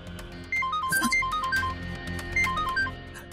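Mobile phone playing a melodic electronic ringtone, a repeating phrase of bright tones at moderate volume indoors, with faint background sound behind it.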